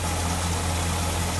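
A Pontiac GTO engine idles steadily up close, a continuous low rumble with a constant drone and no breaks, running alone without any talk.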